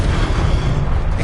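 An Expelliarmus spell is cast in Hogwarts Legacy as a loud, dense rumbling boom that holds steady for just over a second, with no voices.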